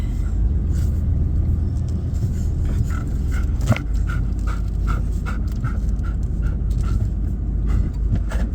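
A dog riding in a moving truck pants steadily and rhythmically close by, over a constant low engine and road rumble, with a brief whimper-like sound partway through and no talk.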